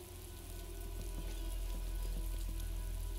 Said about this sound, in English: A little bit of rain going.